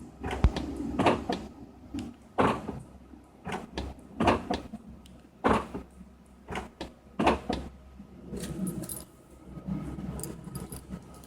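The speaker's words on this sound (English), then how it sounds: "See the lock action." An Infiniti G35 door lock actuator, reinstalled after a repair, cycles its lock with a series of sharp mechanical clunks and clicks, repeated in irregular bursts, close-up and fairly loud.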